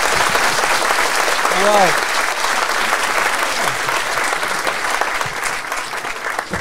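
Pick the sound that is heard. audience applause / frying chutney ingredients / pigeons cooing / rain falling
audience applause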